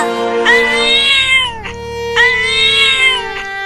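A cartoon mother cat cries out in two long, loud, wavering meows, each rising and then sliding down, heard up close on its own with no talking.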